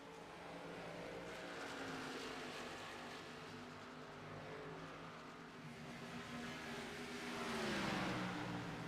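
Xfinity stock cars race through the final lap at Rockingham, a distant, continuous engine drone that rises and falls in pitch as the cars pass, with one louder swell near the end.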